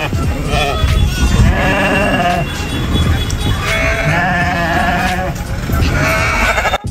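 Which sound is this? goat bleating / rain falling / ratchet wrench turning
goat bleating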